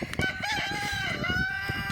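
A nearby rooster crows loudly, one of several kept on a small farm, with a strained, wavering call filling the moment, no speech.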